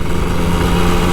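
Kawasaki Ninja RR 150 two-stroke motorcycle revving on an empty road, a steady, loud, close engine drone with heavy wind rush throughout.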